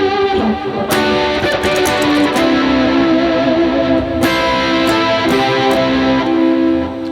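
Overdriven electric guitar with a compressed, distorted tone, played through TONEX and Amplitube amp modeling for an album's sound, ringing out loud and sustained with chords and a couple of strummed accents, no talk.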